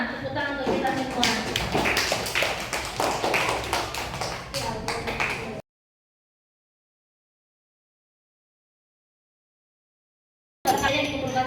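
Classroom applause from a group of students, dense rapid clapping for about five seconds, then silence, with clapping resuming briefly at the end.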